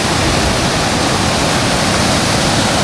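Water tumbles down a hillside waterfall in North Wales, producing a continuous dense roar of splashing flow, close and loud, unchanging throughout.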